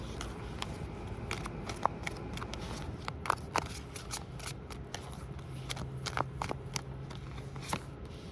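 Rapid papery riffling and soft card slaps as tarot cards are shuffled in bursts, close and clear over a low steady background hum.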